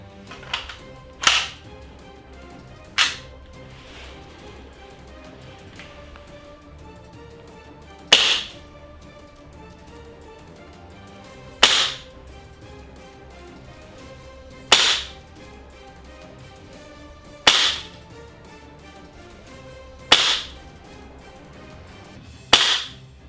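Tokyo Marui Desert Eagle gas airsoft pistol running on green gas, about nine sharp, loud cracking shots spaced a few seconds apart, close and alone with no talking.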